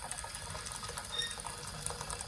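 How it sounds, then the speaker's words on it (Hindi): Water pours steadily into a pot in a home kitchen, a continuous hissing splash heard close and moderately quiet throughout. "ये हमने बॉइलिंग वाटर डाला है"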